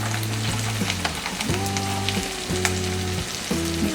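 Chopped onions and carrots frying in a pan for a white sauce pasta, a steady broadband sizzle with recurring low tonal hums and stirring, close and continuous with no talking.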